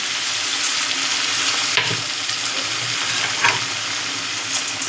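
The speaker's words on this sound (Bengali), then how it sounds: "এটাকে আমি একদম নেড়ে নেবো, আগে ভালো করে কষিয়ে নেবো" Spice paste sizzles loudly in a pan as it is stirred and fried, a steady crackling hiss with occasional scraping strokes of a spatula.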